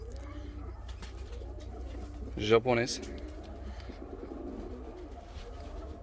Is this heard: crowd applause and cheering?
no